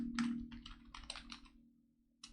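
Keys clattering on a computer keyboard as a MySQL query is typed, a quick run of close, moderately loud keystrokes over a low steady hum, then a pause and one final burst of taps.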